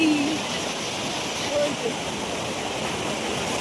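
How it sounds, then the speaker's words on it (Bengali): Water rushing steadily near the Vashistha temple in Guwahati, a dense, even roar of flowing water that fills the whole moment without break. "আর জলের কি শব্দ এখানে"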